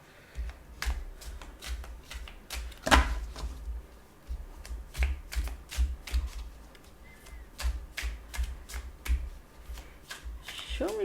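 Tarot cards being shuffled close up in repeated crisp riffling bursts with sharp slaps and flicks, irregular and fairly loud, continuing for several seconds with a faint voice briefly at the end.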